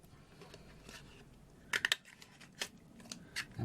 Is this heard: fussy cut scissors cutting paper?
yes